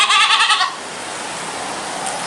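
A goat with a sore, clouded eye gives one loud, wavering bleat close by, lasting under a second, followed by a steady hiss of background noise.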